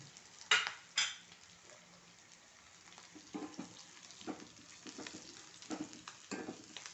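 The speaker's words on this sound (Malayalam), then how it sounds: "ഒരു മണം വരുന്നവരേക്ക് വറുത്തെടുക്കുക" Cumin and fenugreek fry in hot oil in a pan, giving a faint steady sizzle with a couple of sharp clinks early on and soft stirring scrapes later, heard close and quiet without any talk.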